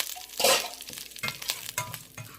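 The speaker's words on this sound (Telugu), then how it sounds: "కొంచెం ఇలాగా కరివేపాకు కాలుతుంది కదా" Curry leaves frying in a pan for a coconut chutney tempering, giving a crackling sizzle that opens with a loud burst and then continues as scattered pops and spatula scrapes, close and alone.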